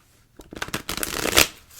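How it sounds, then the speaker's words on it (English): Tarot cards being shuffled once, a quick close riffle of flicking cards building to a sharp burst and then settling. "I'm just going to shuffle the tarot cards once"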